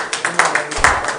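Audience clapping for a university vice chancellor at a University of Medical Sciences ceremony, a short burst of scattered hand claps at close range, with a faint voice underneath.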